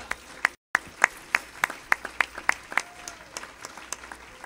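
Church congregation clapping in a steady rhythmic beat, sharp distinct claps at an even pace, fairly close, with a brief dropout near the start.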